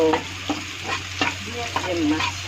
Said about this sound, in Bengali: জিরা দিয়ে দিলাম